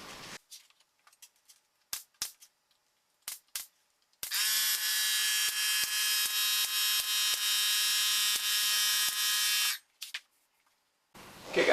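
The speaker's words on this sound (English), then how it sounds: "I'm going to flip it over and I'm going to put some more staples in it to really secure it" A stapler drives staples into a wooden circular-saw guide sled with sharp isolated snaps, then a long loud buzzing drone runs for several seconds before a few more clicks.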